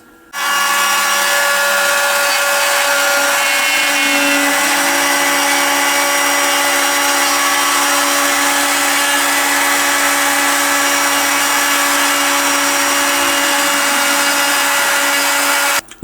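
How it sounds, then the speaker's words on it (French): A CNC mill cuts the outer outline of a plate made from recycled PLA, giving a loud, continuous high whine with steady tones that holds for the whole stretch and stops abruptly at the end. "il reste maintenant à découper à faire le contour extérieur de la plaque, à découper"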